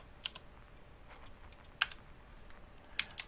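Typing a terminal command on a computer keyboard in Ubuntu 15.04: sparse, quiet key clicks with a few sharper taps, alone in a hushed room.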